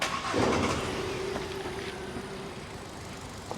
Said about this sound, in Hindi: ये हो गया जी इंजन स्टार्ट,